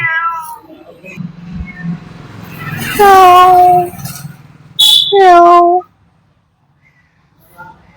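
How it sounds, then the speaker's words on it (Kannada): A cat meows nearby, with a couple of clear, drawn-out calls rising and falling in pitch, preceded by some low background murmur and followed by near silence. "ಬೆಕ್ಕು"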